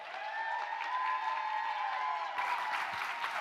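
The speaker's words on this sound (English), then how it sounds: "So y'all better clap and cheer and act a whole fool right now" A keynote audience claps and cheers continuously, a broad crowd roar that swells louder near the end, with a voice ringing out over it at first.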